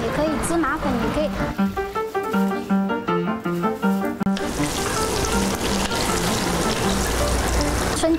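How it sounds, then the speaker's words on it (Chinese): Batter-coated Hakka peanut tofu deep-fries in hot oil with a steady, hissing sizzle that swells louder in the second half, while a narrator talks over it. "裹一些酥浆粉下去油炸，起来就 OK"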